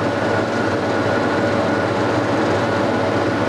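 TGV high-speed train running at speed through a switch, a steady loud rushing roar of wheels and air with no distinct clicks standing out.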